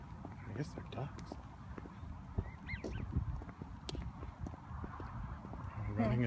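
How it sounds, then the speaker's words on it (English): Honking waterfowl calls, a few scattered quacks and honks over clopping footsteps and background voices, moderately close. "I guess they're ducks."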